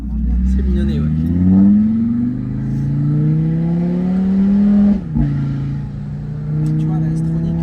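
An Audi RS3 with an S-Tronic dual-clutch gearbox pulls hard, its engine note climbing through a rising rev sweep, then dropping sharply at a quick gear change before building again, loud and close from inside the car, with voices talking over it.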